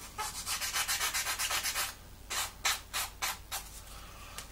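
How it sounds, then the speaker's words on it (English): Sandpaper rubs back and forth over a model part in quick hand strokes, about a dozen passes, then a pause and a few slower strokes, close and fairly quiet. "We're always going sanding to the outside, and literally it's just a couple of passes right the way over."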